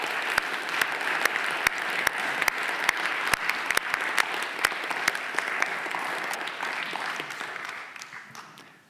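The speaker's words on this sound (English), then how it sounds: "If we could have a round of applause for our wonderful panelists." An audience at an academic panel event applauds the panelists, a dense, steady round of clapping that holds for several seconds before tapering off at the end.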